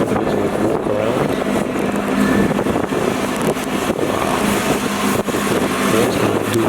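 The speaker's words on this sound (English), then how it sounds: "Another little rev there." A Nissan GT-R or Audi R8 V10 sports car revs outdoors at a photoshoot, the engine note rising and falling loudly and close, with wind buffeting the microphone.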